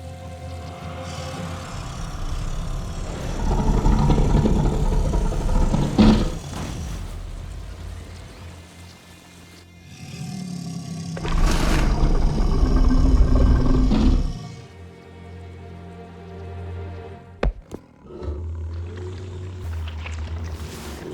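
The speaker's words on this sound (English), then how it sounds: "I use like lots of monster noises." Layered monster noises for an animated Elephants Dream scene rise in two long, loud rumbling roars with growling, watery textures, then fade to a quieter churning bed broken by a sharp crack.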